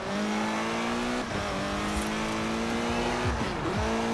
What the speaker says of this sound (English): Alright, hard brake.